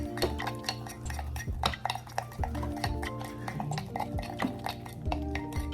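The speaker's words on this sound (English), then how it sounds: "I'm stirring it, stirring it." A spoon stirs and beats cake batter in a small bowl for a microwave cake, with steady clinking and scraping against the bowl in a quick repeated rhythm, close and fairly loud.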